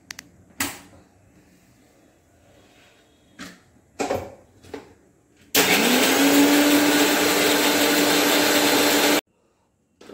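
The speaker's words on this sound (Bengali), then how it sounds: "এবার চলুন আমরা মিক্সিতে চলে যাই।" A mixer grinder blends cashew and poppy seeds with a little water into a paste: a few soft knocks, then a loud, steady, high whirring roar for about four seconds that cuts off abruptly.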